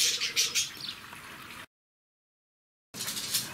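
Faint, soft chirps and tweets from budgerigars, broken by a short stretch of silence before the chirping resumes.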